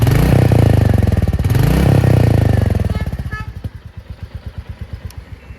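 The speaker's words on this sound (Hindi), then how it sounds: "एक अलग से फीलिंग आ रही है और हल्के से पटाखे भी छोड़ रही है बाइक।" A customized Royal Enfield Meteor 350cc motorcycle revs loudly up close for about three seconds, then settles into a rhythmic, evenly pulsing thump at idle.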